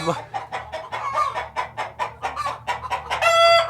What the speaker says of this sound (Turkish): Tavuklar yaylada, inekler.